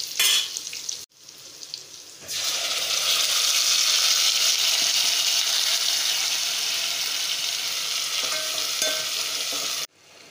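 Masala spices and ginger-garlic paste fry in hot oil for a Marathi-style patodi rassa, a loud steady sizzle after a brief pause, with no talking.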